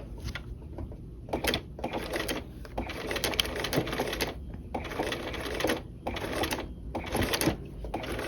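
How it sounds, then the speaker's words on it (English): A sewing machine stitches a pocket flap in several loud bursts of rapid, mechanical clatter, each lasting about a second, separated by short pauses, close by. "You just want to come in and you just want to sew"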